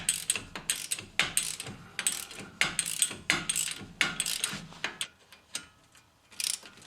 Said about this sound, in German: dann können wir das jetzt genüsslich mit der Ratsche rausschrauben